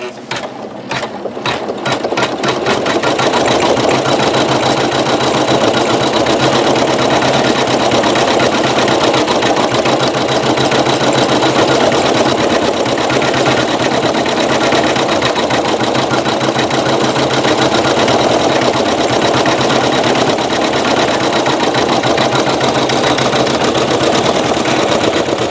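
A Janome MC9900 embroidery machine stitches metallic thread from a Madeira-style cone in a steady, loud, continuous mechanical whir with rapid rhythmic needle clatter, running close and alone throughout.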